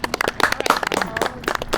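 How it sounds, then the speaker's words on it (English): A small group claps for Miss Frida outdoors near a garden, scattered sharp claps running steadily through the moment with some voices mixed in. "Ladies and gentlemen, clap it up for Miss Frida."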